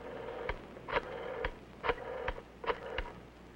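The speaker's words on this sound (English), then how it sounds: "Flip the switch button, then dial a code number and the number you want" A 1960s telephone dials a code number, a series of sharp clicking pulses in irregular bursts, close and fairly quiet with no voices.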